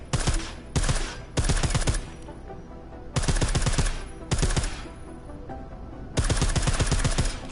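Five bursts of rapid suppressed gunfire from a silenced weapon in Deus Ex: Mankind Divided, each a tight volley of clicks lasting about a second and separated by short pauses, close and fairly loud with no talk.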